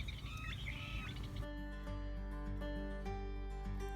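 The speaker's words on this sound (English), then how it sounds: "The little reed island in the center of the pond is a blackbird city." Red-winged blackbirds and grackles call at a reed-fringed desert pond, with chattering, squeaky whistles over a steady low hum, and the calls continue as scratchy tones under a droning background.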